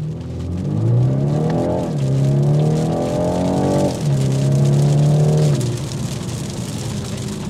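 A 2024 BMW 430i Coupe's 255-horsepower engine roars loudly as it accelerates hard in sport mode, its pitch climbing through two gear changes before easing off.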